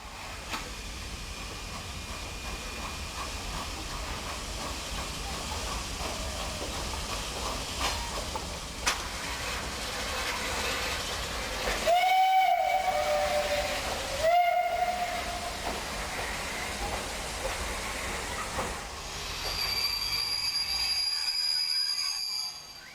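A steam locomotive passing in 2006, with a constant loud hiss and rumble of steam, a long whistle blast rising midway and another high whistle later, no voices.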